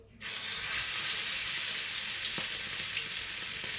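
King fish pieces hit hot oil in a pan for a Kerala-style fry, bursting into a loud, steady hiss that holds close and even, with a couple of faint taps and no talking.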